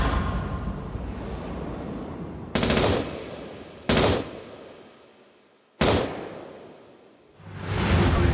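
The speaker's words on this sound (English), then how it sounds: "Barry Seal dies instantly when 7 .45 caliber bullets hit his head, chest, and neck" Loud, sharp gunshot bursts from .45 caliber weapons in a reenacted killing of pilot turned drug smuggler Barry Seal, three distinct blasts cutting through a dense rumbling backdrop, with a swelling rush near the end.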